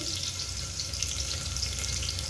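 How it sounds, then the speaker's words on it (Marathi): Mustard seeds sizzle steadily in hot oil, a close, continuous crackling fry with no voices over it. "त्याच्यामध्ये टाकले थोडीशी मोहरी"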